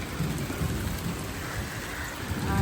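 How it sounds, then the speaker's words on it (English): During a summer thunderstorm, steady rain falls on surfaces close by, with a low rumble of thunder rolling underneath and building slightly toward the end. "And we're gonna have several thunderstorms coming in."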